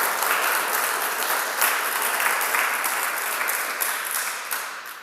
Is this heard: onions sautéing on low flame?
no